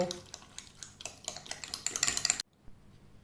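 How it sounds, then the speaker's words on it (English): Vinegar and olive oil salad dressing being mixed, giving a quick run of light clinking and scraping strokes, as of a utensil against a bowl, that grow busier and louder before stopping abruptly into near silence. "In this I am going to be adding 1 teaspoon of vinegar and 1 teaspoon of olive oil. Let's mix everything together."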